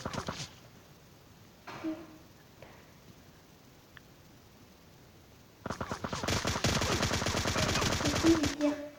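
Gunfire in the video game PUBG: a couple of isolated shots early, then a dense burst of rapid automatic fire that dominates the latter half, loud and close.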